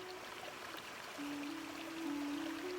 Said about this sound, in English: Behind me is the Cedar Mill Waterfalls